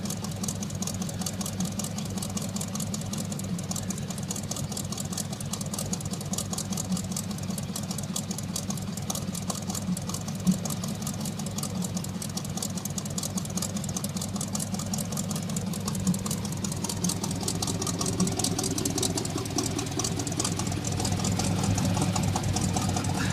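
Chevy Suburban with glass-pack exhaust and no catalytic converters idling after a cold start, a steady, loud low rumble with a slight knocking pulse that holds evenly throughout.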